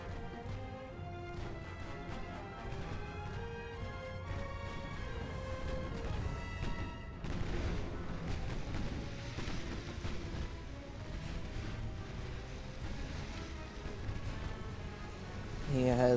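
Warship guns firing during a naval battle between battleship and heavy cruiser lines in Ultimate Admiral: Dreadnoughts, heavy booms and crashes scattered through a dense layer of music and battle noise, moderately loud throughout.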